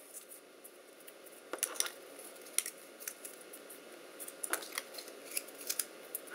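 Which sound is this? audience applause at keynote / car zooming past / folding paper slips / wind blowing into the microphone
folding paper slips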